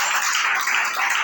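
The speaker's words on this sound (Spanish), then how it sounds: "¿Cuántos sentimos que Dios nos está hablando y le damos ese aplauso al Rey del Universo?" A congregation claps in church, a brief, steady burst of many hands applauding together, fairly loud and close, with no voices standing out over it.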